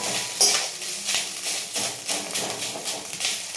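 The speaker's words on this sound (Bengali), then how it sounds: "তো নারকেলটাকে সুন্দর করে একটু ভেজে নিতে হবে, একটু লাল লাল করে।" Coconut paste frying in oil in a wok with a pinch of nigella seeds, a steady soft sizzle broken by repeated scraping and stirring strokes of a spatula, close and moderately quiet.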